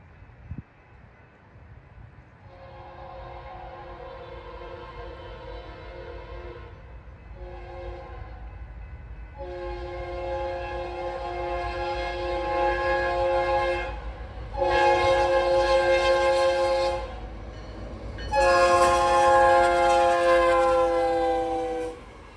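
CSX southbound intermodal freight train passing through Worthington, a rumbling roll building under several long, loud horn blasts that grow stronger and closer.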